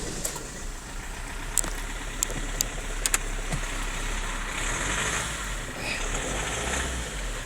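A Land Rover Freelander TD4 diesel engine turns over and settles into a steady low idle, with a few sharp clicks from switches or controls on top, heard from inside the cabin at a fairly quiet level.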